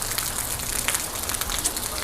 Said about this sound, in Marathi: आता पाऊस पडतो आहे